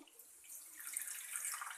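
A little water is poured onto chopped tomatoes in a pan, a faint soft splashing trickle that builds slightly over under two seconds with no voices.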